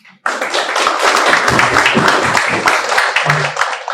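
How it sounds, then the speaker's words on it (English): Audience applause at an oncology award ceremony at an inauguration event in Delhi, starting abruptly after a brief quiet moment and continuing as brisk, loud clapping with individual claps standing out. "Huge round of applause."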